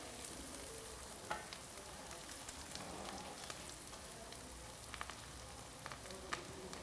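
Onions sautéing in a pan give a faint, continuous sizzle with scattered soft crackles and occasional stirring clicks.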